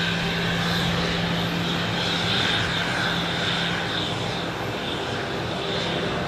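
An airliner taxiing slowly at Zurich Airport, its engines giving a loud, steady whining drone with a low hum beneath, continuous and close throughout.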